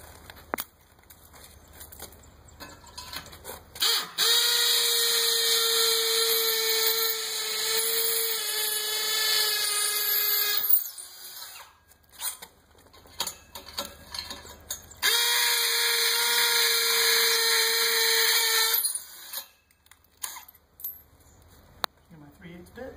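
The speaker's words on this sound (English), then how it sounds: "I'm going to pre-drill my other 2 holes and get that solid mounted" A power drill pre-drills holes to mount a wrought iron gate latch, sounding as two long high-pitched whining runs of several seconds each, separated and followed by short bursts, clicks and handling noises.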